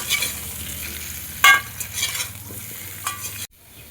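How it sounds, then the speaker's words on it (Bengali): Potatoes being stirred and fried in oil in a pot, with a steady soft sizzle and occasional louder scraping stirs, close up and with no talk, cutting off abruptly near the end. "হালকা এইভাবে নাড়াচাড়া করছি"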